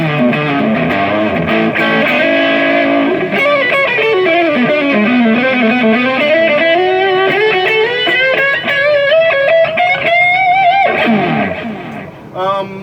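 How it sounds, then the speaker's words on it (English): An electric guitar played through an amplifier's overdrive channel, a loud, distorted run of sustained notes and bends with effects, continuous and close. "You also can go to the Overdrive channel."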